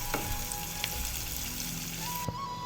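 Chopped onions frying with black cumin in a pan for a Bengali katla fish curry, a steady, close sizzle with a few sharp clicks of utensils against the pan and a faint tonal hum underneath.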